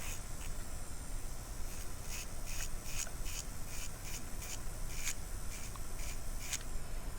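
A nail e-file grinds on Gel-X nails, giving a steady, faint whirring hiss with rhythmic, repeated strokes as the bit passes over the nail surface up close.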